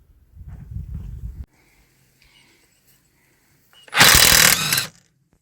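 A cordless impact wrench hammers at the front wheel nuts of a Volkswagen in two loud, close bursts, a short low rattling burst first and a harsher, brighter one later, with near-silence and faint handling noises between them.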